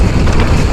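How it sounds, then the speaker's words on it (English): Headwind buffeting the microphone on a mountain bike ride, a loud, close, continuous low rumble of wind noise across the whole short moment. "Bit of a headwind."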